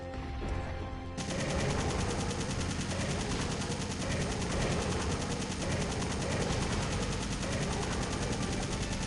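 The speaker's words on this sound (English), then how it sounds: "open fire on him from a distance" Sustained loud gunfire from the Resident Evil 3 video game, a dense continuous barrage of rapid shots filling the whole stretch after a brief quieter opening.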